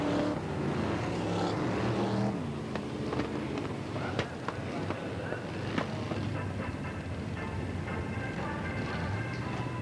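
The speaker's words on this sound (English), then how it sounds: "And while the cars come out for Heat 3," Formula One stock cars at Skegness Stadium coming out for a heat in 1985: a continuous mix of engines revving and droning at a distance, with a commentator talking over it.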